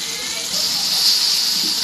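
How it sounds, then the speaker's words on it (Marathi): Drumsticks (shevaga) fry in a pan, hissing and sizzling steadily up close and swelling a little louder partway through, with no talking. "हे बघा असे फ्राय करून घ्यायचे आहे."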